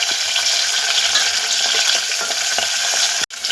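Tomato pieces are tipped into softened onions frying in a pan for a whole masoor dal khichdi; a steady, fairly loud sizzle runs close-up with stirring scrapes, then breaks off briefly near the end.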